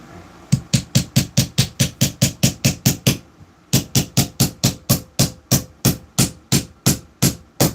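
A hammer drives a nail into wood with rapid, evenly spaced sharp strikes, about sixteen blows, a brief pause, then another steady run of loud close hits.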